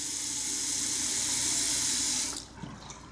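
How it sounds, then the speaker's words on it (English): Water gushes steadily from a tap into a sink, close and loud, then cuts off abruptly near the end, leaving faint background noise. "I guess the water's back on"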